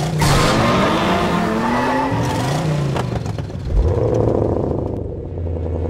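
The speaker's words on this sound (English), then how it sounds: "There's nothing quite like the sound of a V8 engine." A V8 engine roars loud and close, with heavy revving, a rising pitch sweep and some tyre squeal, continuous throughout without talk.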